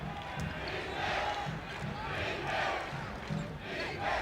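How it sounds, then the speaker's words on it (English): Basketball arena crowd in San Antonio in 1978 roaring and chanting for the Spurs to play defense, a distant, swelling murmur of voices with faint court thumps underneath. "the crowd beginning to implore the Spurs to play some defense"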